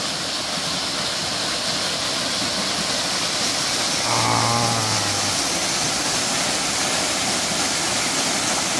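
Steady, loud rush of a mountain waterfall on Chiaksan, a broad continuous roar of falling water with a brief low hum from something else partway through, and no voices.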